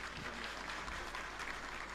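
An audience at a public gathering applauds to welcome a guest, Bawankule Saheb. The clapping comes as a brief, faint, continuous patter, heard from a distance.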